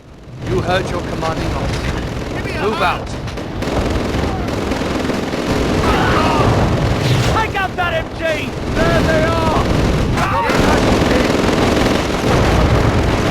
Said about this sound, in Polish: słychać karabin maszynowy